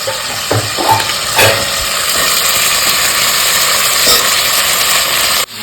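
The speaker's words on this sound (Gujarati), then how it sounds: "હવે બટાકાને વટાણાને તેલમાં ચડાવી દઈશું" Potatoes and peas frying in oil in a pan for a Gujarati vatana-bateta shaak, a steady close sizzle with a few stirring clatters near the start, with no talk over it.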